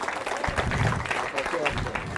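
At a school's annual prize giving day, an audience claps in a steady wash for a student's mother, with voices mixed in under the applause.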